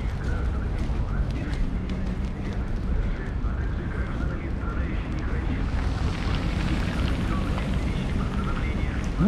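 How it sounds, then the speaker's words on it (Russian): Freezing rain falling on an outdoor winter evening in Saint Petersburg in December, a steady dense hiss with faint scattered pattering that runs unbroken from start to finish and grows slightly fuller toward the end. "Сегодня обещали ледяной дождь."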